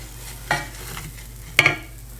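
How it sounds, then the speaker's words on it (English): Pre-cooked kielbasa warms in a pot while a spoon stirs it, giving a soft sizzle underneath two sharp scraping clacks, close and moderately loud with no voices. "Again, making sure we are continually stirring so nothing burns."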